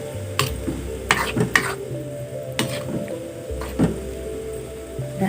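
Chili and tempeh fry in a pan with a steady sizzle, while a utensil stirs and scrapes in irregular bursts against the pan close by.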